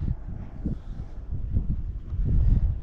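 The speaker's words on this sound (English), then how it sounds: "it is windy right now." Strong wind buffets the microphone on a fishing pier, a low rumbling gusty roar that swells and fades unevenly and grows louder toward the end, with no voices.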